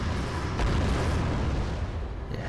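A napalm strike lands on enemy units in the video game Wargame: AirLand Battle, a dull explosive boom followed by a dense, roaring rumble of fire that slowly thins out.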